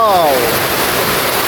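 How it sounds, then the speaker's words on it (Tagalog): Heavy rain pours down outdoors in a dense, loud, unbroken wash of hissing noise, with a brief faint whistling tone at the start. "Ang lakas ng ulan."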